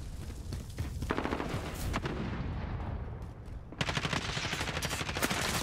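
Dense multiplayer gunfire from the video game Call of Duty: Modern Warfare rattles continuously: rapid automatic bursts and heavy booming shots crowd together, thinning briefly before a louder, sustained volley kicks in near the end.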